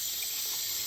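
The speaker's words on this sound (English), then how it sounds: "just under the running water" Tap water runs steadily into a sink as a silkscreen used on polymer clay is washed beneath it, a continuous close hiss with no talking.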